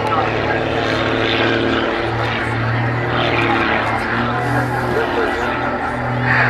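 Aerobatic propeller plane flying knife edge at the RAF Cosford Air Show 2023, a steady droning engine with a constant pitch, heard amid crowd murmur and a commentator's voice over the loudspeakers.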